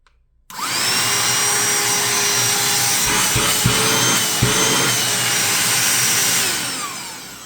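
DeWalt DCV501LN 18V cordless vacuum cleaner running: a loud, steady, close-up whine that starts abruptly, holds for several seconds with a couple of brief knocks, then winds down at the end, with no talking.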